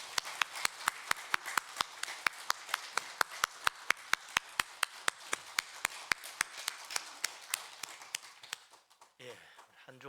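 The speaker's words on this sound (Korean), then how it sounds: "우리들 힘찬 박수로 영광 돌립니다." A church congregation at a Sunday worship service claps in a steady, sharp rhythm, each clap crisp and evenly spaced, then the applause stops and a voice begins speaking.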